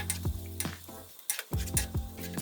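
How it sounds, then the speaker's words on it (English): Pancit noodles with shrimp are tossed and stirred with two spatulas in a hot pan after soy sauce goes in, giving quiet sizzling with repeated scraping strokes in an uneven rhythm. "Add the 2 tablespoons soy sauce and stir to combine"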